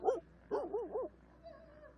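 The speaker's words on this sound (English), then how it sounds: "we got a lost dog up here" Small lost dog barking at a motocross race announcer's tower, a single yip followed by three quick barks in a row, close and fairly loud, then a faint whine.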